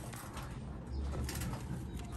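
A turtle dove coos low and soft near a nest holding chicks, the murmuring calls steady and slightly muffled through the whole stretch, with no voices over it.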